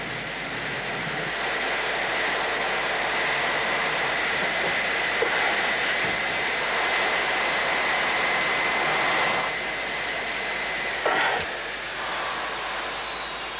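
Steady, loud roar of spaceship engines from the science-fiction series Space: 1999, a continuous broadband drone with a high whine that holds throughout, briefly dipping and surging near the end.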